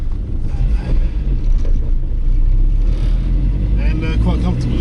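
Talbot Matra Rancho driving with its engine running, a steady low rumble and road noise filling the cabin, with a person talking over it throughout.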